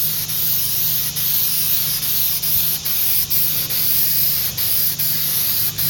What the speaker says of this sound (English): I spray paint it black because it looks more realistic